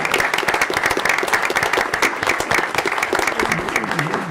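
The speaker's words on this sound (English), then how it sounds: "let's give them a good applause" Applause at a school board meeting, a close, moderately loud patter of many hands clapping in an irregular rhythm that fills the whole stretch.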